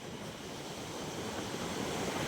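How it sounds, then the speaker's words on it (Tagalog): Ocean waves wash against the beach at Bucana in a steady, broad roar of surf mixed with wind buffeting, continuous and fairly faint with no distinct breaks. "mga nasa bakod na rin ang alon"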